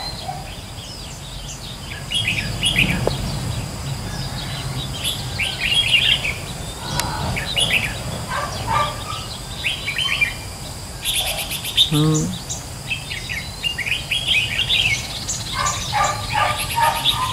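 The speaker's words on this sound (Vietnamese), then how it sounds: "anh em này lâu này không được ra mà có khác chim bay qua đầu ấy" Wild birds calling overhead in a rural outdoor setting, with repeated bright chirps and twittering bursts scattered across a steady background hum, some calls near and others farther off, plus a brief voice.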